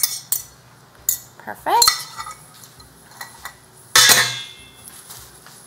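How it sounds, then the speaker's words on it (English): Beaten scrambled eggs with a little milk being tipped into a cooking pot, bringing sharp metallic clanks and scrapes of utensils against the pot, a brief pouring splash, then another loud clatter, with a short spoken word in between. "So I'm going to go ahead and throw that in the pot."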